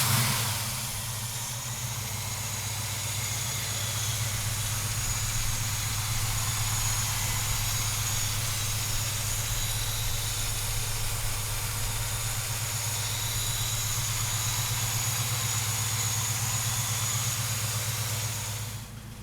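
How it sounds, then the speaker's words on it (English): A 1971 Chevrolet Camaro big-block V8 runs steadily at idle, a loud, continuous low rumble with a strong droning hum that holds nearly unchanged for the whole stretch, with no voices over it. "So come on up and let's fire this big block up."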